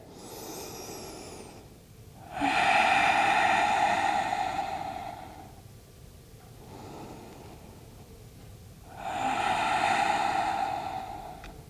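Slow, deep breaths in a yoga forward fold, two long drawn inhales and exhales heard up close and fairly loud, each lasting a few seconds with brief pauses between, and no talk.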